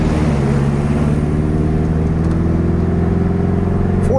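A 1966 VW Beetle with a 1776cc engine runs steadily after a downshift, its loud, close air-cooled drone holding level harmonics with a slight droop in revs and no speech.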